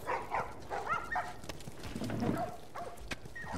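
Dogs bark and whimper in a trader's area in The Last of Us, sounding soft and somewhat distant. The yips and whines come in uneven bursts over a low background hum, with no clear talking.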